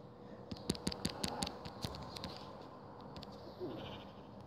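Sheep bleating in Minecraft PE, a quick run of short, clipped bleats near the start, then quieter, sparser calls over a low background hum.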